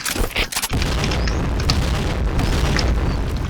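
A grenade explodes in a video game, a loud close boom with a heavy rumbling burst that lingers and fades over several seconds.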